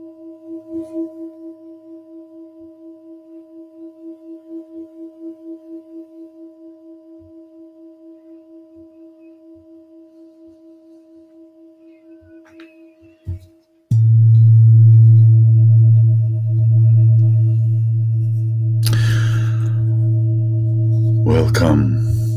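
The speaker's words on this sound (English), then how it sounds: "this is the opening jingle" A podcast opening jingle made of chirp tones: a soft pulsing electronic tone with faint ticks, then a sharp burst and a loud, full sustained drone with a brief swell of added chirps near the end.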